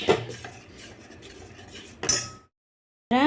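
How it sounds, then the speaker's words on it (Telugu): Ragi flour and jaggery mixture stirred firmly in a pan, a spoon scraping and clinking against the metal in close, steady strokes for about two seconds, a sharp clatter, then a pause before scraping resumes. "కలపాలండి, బాగా గట్టిగా కలపాలి"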